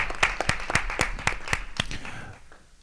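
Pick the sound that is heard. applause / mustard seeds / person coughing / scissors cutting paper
applause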